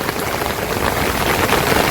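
Steady rain falling in a rural village during the rainy season, a dense, even patter on surfaces that holds close and constant with no voices.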